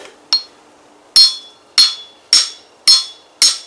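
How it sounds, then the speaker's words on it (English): Six sharp metallic hammer strikes ring out at a steady pace while a hole is dug for a coyote trap outdoors. The blows are close and loud, each with a bright, short ringing decay, and there is no talk. "Hammer breaks off in the hole."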